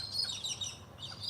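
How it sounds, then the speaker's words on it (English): Parrots call with high, scratchy chirps as a flock flies past in the evening on a wander to the river, faint and a little distant, with no talk. "All the parrots are starting to fly by,"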